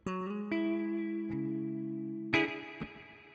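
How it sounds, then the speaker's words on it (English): Electric guitar played through a NUX Mighty Plug Pro or BOSS Katana GO headphone amp with heavy reverb rings out a few sustained chords, each struck cleanly and then left to decay into a long shimmering tail. "You know, nice lot of reverb."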